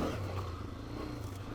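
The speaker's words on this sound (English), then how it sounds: "So this is a trail bike." A Honda CRF300F trail bike's engine runs steadily on rough singletrack, a low continuous drone that rises slightly near the start and stays close and loud throughout, with no voices.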